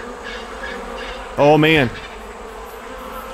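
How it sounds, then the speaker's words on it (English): Bees buzz in the game ARK: Crystal Isles as a faint, steady insect drone in the background, while a brief spoken exclamation cuts in near the middle. "Is that bees or is that..."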